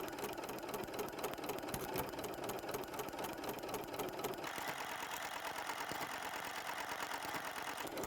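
A sewing machine with a ruffler attachment stitching and pleating fabric, its fast motor whir and rapid needle chatter running steadily and close, the tone shifting partway through once the setting changes.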